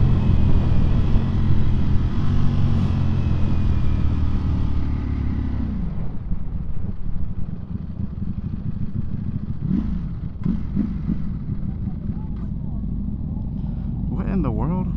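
A Ducati V4 motorcycle engine drones loud and steady during a street race against other superbikes, then its pitch drops and it fades to a rougher rumble as the bike loses power.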